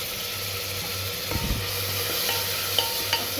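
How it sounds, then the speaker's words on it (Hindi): Ginger-garlic paste with garam masala and a little mint sizzles in a pan for chicken curry. A steady, close frying hiss carries a few stirring scrapes and clinks, with no voices. "अच्छे से फ्राई करेंगे"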